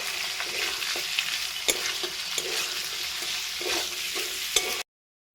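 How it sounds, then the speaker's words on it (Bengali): Chopped onions, five large ones, fry in a pan for a chicken curry with potatoes, giving a steady close sizzle broken by several sharp scrapes and clinks of stirring, with no talking. "দিয়ে দিচ্ছি কুচি করে রাখা পেঁয়াজ। যেহেতু 1 কিলো মাংস, এখানে ওই জন্য আমি 5টা বড় সাইজের পেঁয়াজ নিয়েছি। পেঁয়াজটা ভেজে নেব।"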